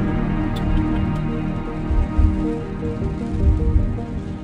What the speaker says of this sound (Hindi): वो देखो कितनी तेज बारिश हो रही है